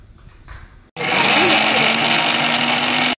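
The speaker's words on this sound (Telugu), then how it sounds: "ఇప్పుడు దీన్ని మనం మిక్సీ పట్టుకుందాం" A kitchen mixer grinder whirs steadily for about two seconds while blending onions and garlic, loud and close, with a high motor whine that starts abruptly and cuts off just as sharply.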